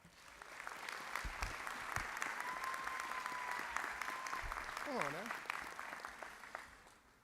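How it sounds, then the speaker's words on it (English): Sustained applause from a Fall 2023 commencement ceremony crowd cheering the graduating class of 2023, dense and steady throughout, with a voice speaking over it and a brief whistle-like tone partway through. "Give yourselves a round of applause."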